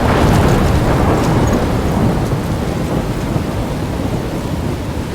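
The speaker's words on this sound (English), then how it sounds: "I'm trapped in a storm?" Rain pours steadily with a heavy, rumbling thunderstorm roar throughout, loud and enveloping, in the stormy opening scene of the video game Life Is Strange on PS5.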